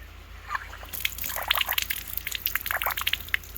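Water drains from a frost-proof hose bib with faint sloshing and irregular trickling splashes close by. It starts quietly and builds into uneven gurgles and drips.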